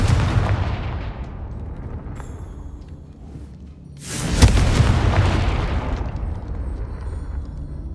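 A Confringo fire spell explodes in Hogwarts Legacy. A low rumbling background drops away, then a single loud, close boom bursts out and decays into a long roaring tail.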